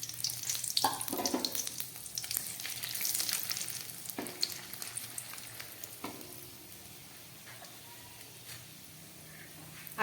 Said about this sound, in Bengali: এই পনির ভাজা তেলের মধ্যে আমি দিয়ে দিচ্ছি একটা তেজপাতা, একটা শুকনো লঙ্কা, আর দিয়ে দিচ্ছি কিছুটা থেতো করা গরম মশলা